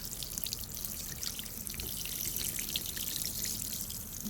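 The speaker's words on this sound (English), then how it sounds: "So what I do, I water it at the base of my plants." Liquid fertilizer poured from a container onto the base of flowering plants, a steady close trickle of water soaking into soil, continuous with no talking.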